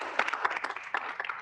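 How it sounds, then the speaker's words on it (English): A small group at a Kansas State University Student Senate meeting claps for a newly sworn-in senator, a quick, faint scatter of uneven hand claps lasting barely over a second. "Can we get some applause for Senator Willis?"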